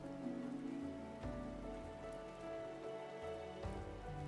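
Steady rainfall in the video game Final Fantasy XIV's Eastern Shroud and Gridania, a soft continuous patter of drops under a low sustained game ambience.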